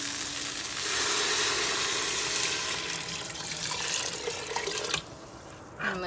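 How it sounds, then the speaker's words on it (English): Water pours from a tap into a pot of rice for Guyanese vegetable fry rice, a steady close splashing rush that ends with a few faint clinks. "so in goes my water."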